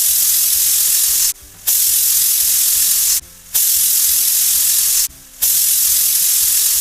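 Broadband hiss and sizzle of a pressure cooker on the stove, steaming continuously with three brief pauses, cooking Maharashtrian dal-bitti dumplings for four whistles.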